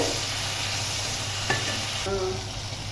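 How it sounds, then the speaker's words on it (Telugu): A tomato mixture is stirred in a hot pan while making small punugulu, with a steady close sizzle and a spoon scraping the pan once. "ఇప్పుడు అడుగట్టకుండా చక్కగా కలుపుకోవాలి."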